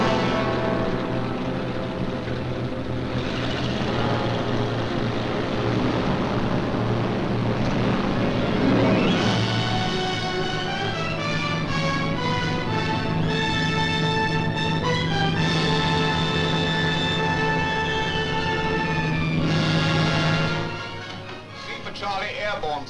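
Engines of a WWII British bomber aircraft, a steady droning hum that holds throughout, with a documentary narrator and then crew voices talking over it.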